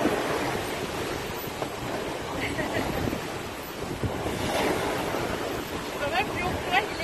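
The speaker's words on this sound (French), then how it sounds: "Quand même, avec les belles vagues." Steady rushing surf of ocean waves under strong wind noise, continuous and fairly loud, with faint voices in the background.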